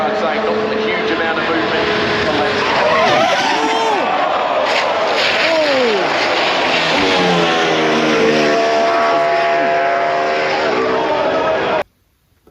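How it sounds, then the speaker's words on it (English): Max Verstappen's Formula 1 car crashing in Australian Grand Prix qualifying, loud engine whine with sweeping pitch changes over crowd noise, continuous and up close until it cuts off abruptly near the end. "Max Verstappen crashing in Q1"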